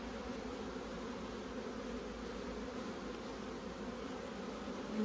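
Agitated Buckfast honeybees swarm over a hive during an open inspection, making a dense, steady, close buzzing drone that holds at an even level throughout and swells slightly at the very end.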